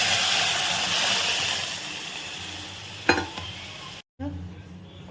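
Cooked dal poured into a hot turmeric tempering, a bright steady sizzle that fades, then a short clatter before the hiss resumes briefly.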